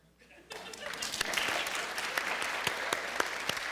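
A science-festival audience bursts into clapping after a short quiet lead-in, a loud, dense round of applause that holds steady, with sharp individual claps standing out.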